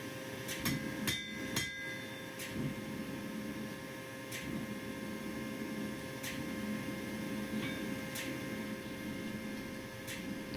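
Hammer blows on a steel bolo blade at the end of forging, a quick cluster of sharp metallic strikes near the start followed by sparser single ringing hits, close and loud over steady workshop hum.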